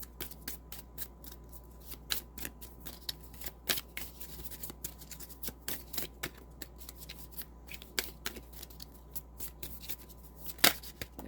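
Tarot cards are shuffled and handled up close, giving a steady run of crisp riffling flicks and soft slaps with occasional sharper snaps and no talking.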